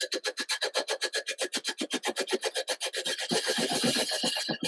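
Rhythmic rasping scrape repeating rapidly, steady back-and-forth strokes of a tool cutting wood on a lathe, smoothing into a continuous hiss near the end.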